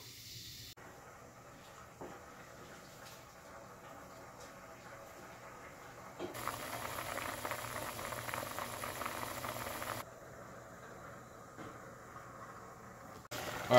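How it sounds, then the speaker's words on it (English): A pot of water with two packets of mac and cheese pasta bubbles at a low, steady simmer, with a louder hissing boil swelling in the middle before settling back down. "the water's boiling, so I'm going to add both these packets of mac and cheese"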